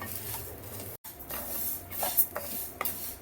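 Rice and lentils dry roasting in a heavy pan, with soft scraping and rubbing strokes of a spoon against the metal, a few clinks, and a brief dropout near the start; no talk.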